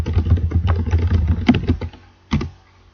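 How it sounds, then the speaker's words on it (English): Rapid keystrokes clatter on a computer keyboard in uneven bursts, then pause before a final short flurry of taps. "you can probably hear me typing"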